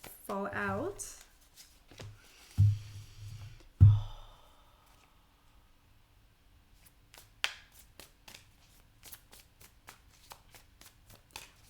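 Tarot cards being shuffled close up, with a quick riffle burst at the start, then a couple of soft thuds and scattered light card flicks and taps in a quiet room.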